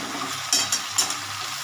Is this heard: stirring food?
yes